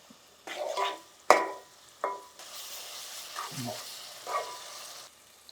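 Sliced onions and green chillies for a chicken brinjal curry hit a hot pan, giving bursts of sizzling and stirring scrapes in uneven spurts, close and moderately loud, with quiet gaps between.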